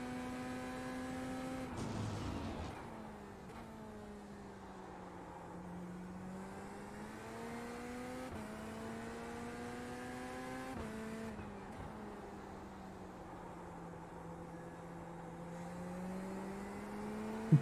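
A Chevrolet Corvette Z06 GT3.R race car laps the Barcelona Historic circuit in iRacing. The engine drone rises and falls steadily through the gears and corners, with brief shifts and no talk.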